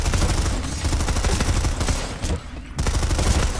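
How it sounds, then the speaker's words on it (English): Sustained light machine gun fire in PlanetSide, a rapid, continuous burst of automatic shots that runs loud and close, breaks off briefly, then resumes. "This is the light machine gun you're going to want to use."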